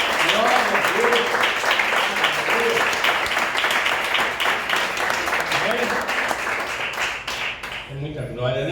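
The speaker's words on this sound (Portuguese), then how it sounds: "Pode aplaudir o Senhor." A church congregation at a Pentecostal service applauds in sustained, dense clapping that carries through the whole stretch, with voices and shouts rising underneath and a voice speaking near the end.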